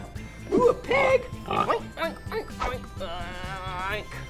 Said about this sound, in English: Ooh, a pig.